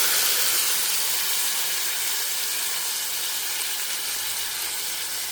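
Tomatoes sautéing in a pan with mustard seeds and split green chillies, a loud, steady, hissing sizzle close by, fading slightly over a few seconds, without any talk.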